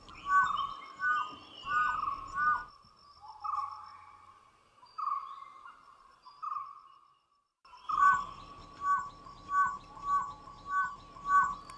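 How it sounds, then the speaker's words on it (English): Repeated short whistling calls of a dhole (Asian wild dog) at a steady rhythm, fairly clear and close, falling quiet midway before resuming in a regular series. "Known as the whistling hunters, the dhole cannot bark the way dogs do."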